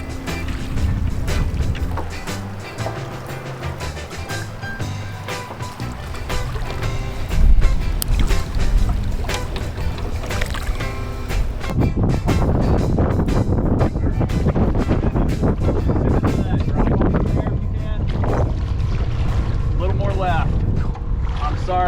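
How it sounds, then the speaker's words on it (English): Strong wind buffets a small fishing rowboat on the water, a loud, continuous rushing roar across the whole stretch, with wind thumping the microphone and sounds of the boat underneath. "Sorry, dude, it's so windy."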